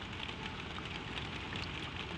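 Steady rain drums on a tin roof over an attic bedroom, a dense, even patter that stays constant throughout with no breaks or voices.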